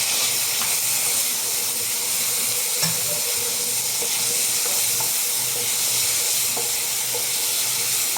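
Hard squash (kalabasa) sautéing in a hot pan for an Ilocano dininding, with a steady close sizzle and hiss and occasional stirring clinks, no voices.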